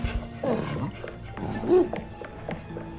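A dog in the video game Hello Neighbor 2 barks and whimpers in short bursts as it approaches, with a person talking over it.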